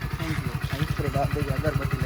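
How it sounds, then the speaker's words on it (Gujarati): A newly bought motorcycle idles close by with a steady, pulsing low engine beat, and people talk over it throughout. "શિવે ભાઈએ નવું બાઇક લાવ્યું તો કોંગ્રેચ્યુલેશન."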